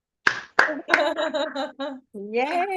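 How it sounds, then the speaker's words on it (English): A few sharp hand claps from online poetry event participants ring out one after another at the start, followed by a cheerful spoken cheer that carries on to the end. "Let's do a big round of applause."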